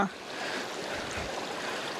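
A flowing hill stream in the Kalvarayan hills pours steadily, its broad, even rush of water close by and continuous throughout with no talk.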